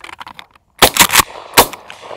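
Mossberg 500 .410 pump shotgun fired at hand-thrown clay targets outdoors: a couple of sharp, loud shots ring out close by, separated by a short pause, with faint ambient noise between.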